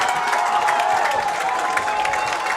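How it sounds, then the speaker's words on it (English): A Loyola crowd at a homecoming varsity high school football game roars and applauds in a dense, continuous wash of cheering that stays loud throughout. "And this Loyola crowd is going crazy."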